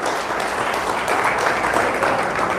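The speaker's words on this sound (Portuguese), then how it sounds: "Uma salva de palmas, por favor." Audience applause at a gathering, a dense, steady wash of many hands clapping at full strength throughout, close and loud with no pauses.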